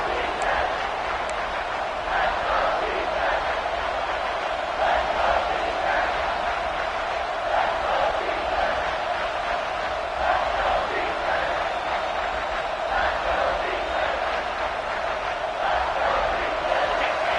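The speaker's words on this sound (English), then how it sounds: "this defense feeling energy from the crowd" A packed stadium crowd roars steadily during a third-and-goal defensive stand in the College Football 25 video game. The cheering is loud, continuous and unbroken, with no clear rises or lulls.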